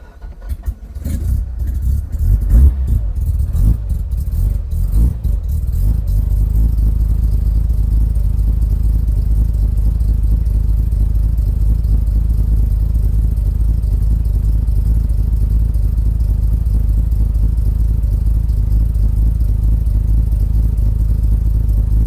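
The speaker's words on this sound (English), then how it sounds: "Straight into the idle quite nicely." A Mazda RX-5 project car's rotary engine cranks, catches with uneven clattering revs, then settles into a loud, steady, rumbling idle that continues close by with no talking.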